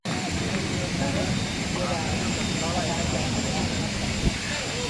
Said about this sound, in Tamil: ஃப்ளைட் போகுது.